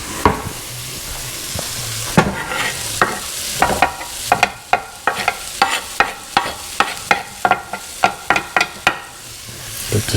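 Chopped ingredients sizzling in a hot pan for camarones enchilados, a steady fry hiss broken by a quick series of sharp scraping stirs that grow regular toward the end.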